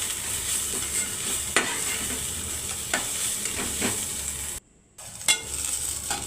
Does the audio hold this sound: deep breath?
no